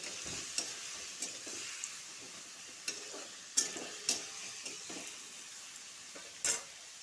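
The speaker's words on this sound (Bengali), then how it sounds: "পরিমাণ মতন একটু নুন দিয়ে দিব, একটু হলুদ। ভালো করে লাড়াচাড়া করব।" Bottle gourd with salt and turmeric being stirred in a pan: a quiet sizzle under repeated, irregular taps and scrapes of a spatula against the pan, close by, with no talking.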